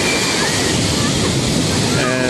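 Ocean surf at a beach on a summer day with good waves and boogie boarders out: a loud, continuous broadband wash of breaking waves mixed with wind rumble on the microphone.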